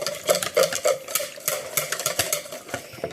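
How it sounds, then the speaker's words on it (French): A whisk beats egg yolks with a little boiling water in a bowl, making rapid, rhythmic clinking and sloshing strokes, close and fairly loud, with no talk. "J'ai fait chauffer dans le petit micro-cook 15 ml d'eau bouillante que je mets avec mes jaunes d'œufs. Et je fouette très fort."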